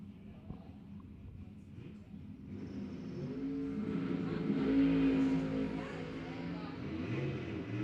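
A Mustang and a Corvette door car accelerate off the line at a drag race, engines building from a low rumble to a loud, rising roar with a brief high whine, while an announcer talks over it.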